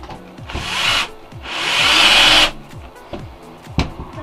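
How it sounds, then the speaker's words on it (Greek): Einhell 18 V cordless drill driver (TE-CD 18 Li) running in two short bursts, a rising whine that holds then stops, with light handling clicks in between, close and loud. "Είναι αρκετά καλό και σαν τρυπάνι και σαν βιδολόγος"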